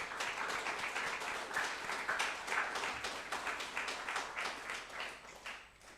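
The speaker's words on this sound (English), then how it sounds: "Can we give a big applause?" Audience applause at a Sunday church service, a moderately distant crowd clapping steadily with individual claps audible, fading off toward the end.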